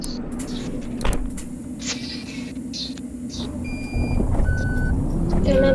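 Reversing beeps from a bus in the Bus Simulator Ultimate game, repeating short tones over a steady engine hum with faint ambient game sounds, moderately loud throughout.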